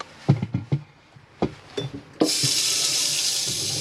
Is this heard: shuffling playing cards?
no